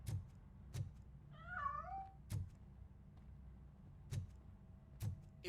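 A cat in the video game RoboCop: Rogue City gives a single wavering meow, clear and mid-distance, set among sharp periodic clicks and a low rumbling background.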